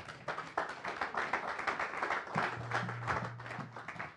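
Church congregation applauding together, a steady crowd of close and distant claps with some taps and a brief low hum mixed in, moderately loud and continuous throughout.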